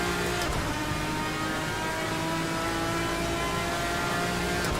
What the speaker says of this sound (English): Well, this sounds like an engine.